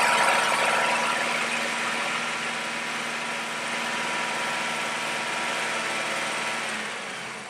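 A car engine runs loudly and steadily for an oxygen sensor test, holding a raised, even drone with a faint high whine, easing slightly after the first seconds and staying constant with no voices.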